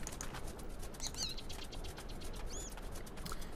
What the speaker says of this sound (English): There's a little bird up there, actually.